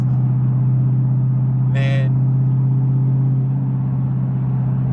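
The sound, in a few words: exhaust drone of Roush supercharged 2015 Mustang GT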